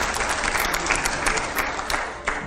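Studio audience breaking into steady, dense applause throughout a televised interview show, a continuous rush of many hands clapping with no pauses and no talk over it.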